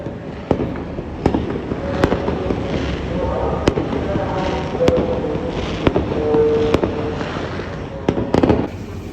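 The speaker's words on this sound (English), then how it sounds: "never seen fireworks" Fireworks bursting over Kuala Lumpur, heard from a high vantage point above the display: repeated sharp booms and crackles at irregular intervals over a steady city rumble, with a denser cluster of bangs near the end.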